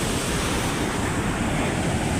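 Large typhoon-driven ocean waves pounding the shore at Calintaan, Occidental Mindoro, a loud continuous roar of surf with heavy wind buffeting the microphone, with no voices.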